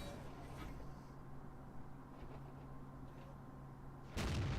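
A Tiger II tank cannon fires in World of Tanks, one sudden booming shot bursting in at the very end after a stretch of quiet, low engine rumble.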